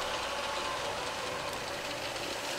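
An 11-by-18-inch Hardinge HLVH tool room precision lathe runs in threading mode, giving a steady mechanical hum and whir that stays at an even level throughout, with no voices.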